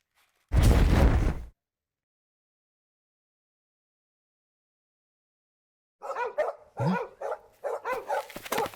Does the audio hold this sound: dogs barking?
yes